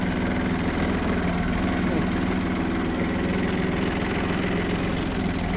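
A small tractor engine idles steadily nearby, a constant low rumbling chug with no change in pace.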